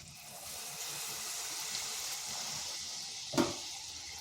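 Palm pitha batter frying in hot oil in a wok over medium heat gives off a steady, soft sizzle, with one brief louder clatter near the end.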